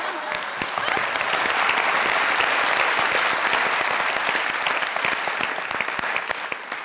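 A studio audience at a comedy show claps in a steady, dense burst of applause that holds for several seconds, close and loud with no talking over it.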